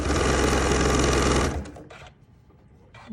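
A sewing machine stitches a fabric wristlet in a loud, fast continuous run for about a second and a half, then stops, leaving quiet handling noise.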